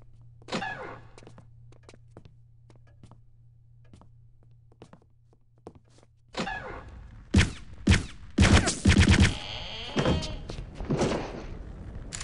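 Sharp gunshots and impacts in Return to Castle Wolfenstein, a burst of loud cracks and thuds after a quieter stretch with scattered clicks and footsteps, the shots clustered near the end.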